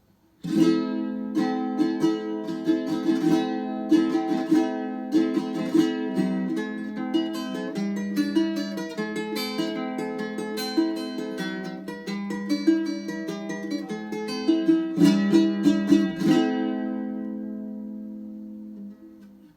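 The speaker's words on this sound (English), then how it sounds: "the ronroco sounds like this." A ronroco, a round-bodied Andean stringed instrument, is strummed and plucked in a dense, ringing rhythm for about sixteen seconds before its final chord rings out and fades.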